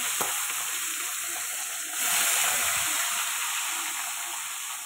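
Rohu fish pieces fry in hot oil in a wok, a steady loud sizzle that swells briefly as another piece is added, with no voices.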